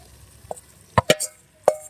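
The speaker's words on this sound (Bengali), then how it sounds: "এবারে এই যে আলুগুলো সেদ্ধ আলু, এবার আমি আলুগুলো দিয়ে দেবো।" Boiled potatoes are tipped into a pan for aloo dum, making a few sharp, separate plops and knocks spread across a quiet moment, with a brief faint sizzle between them.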